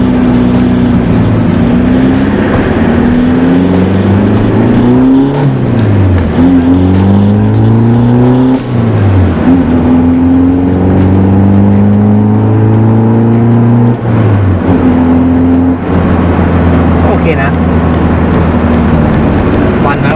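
Tuned Isuzu D-Max pickup with an electric throttle booster out on a test drive, its engine revving up and down through repeated gear changes, loud and close from inside the cab, with occasional talk.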